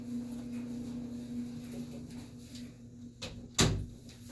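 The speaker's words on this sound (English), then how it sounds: "I'm going to shut my door here." A door is pushed shut indoors, ending in one sharp thud after a few soft shuffles and a lighter knock, set against a quiet room with a low steady hum.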